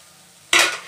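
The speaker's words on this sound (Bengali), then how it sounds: "সরিয়ে নিয়ে মশলাটাকে ভালো করে একবার নাড়াচাড়া করে নেব।" Mustard masala stirred in a pan for a Bengali drumstick (sojne) curry, a sudden scraping, sizzling burst starting halfway through after quiet, close and fairly loud.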